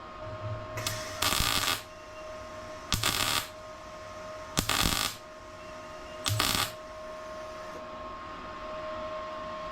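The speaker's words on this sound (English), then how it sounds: "So I'm basically just gonna do a couple warm tacks right across it" Warm welding tacks go across a bolt on a Procharged GTO: four separate bursts of harsh crackling buzz, each about a second long, sound close up over a steady background hum.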